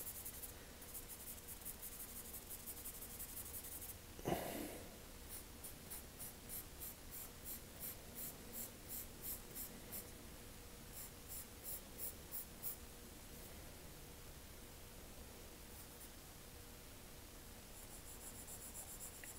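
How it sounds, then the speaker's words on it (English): A wide charcoal pencil scratches and rubs steadily across drawing paper, with soft rhythmic strokes and one brief louder tap, close and quiet throughout with no talking. "that's probably a function of the particular charcoal pencil I'm using too"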